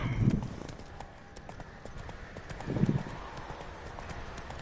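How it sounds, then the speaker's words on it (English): Horse hooves cantering in The Witcher 3, a steady rhythmic clip-clop with heavier thuds, moderately loud over a soft game ambience. "I feel like cantering on Roach is actually slower than just running"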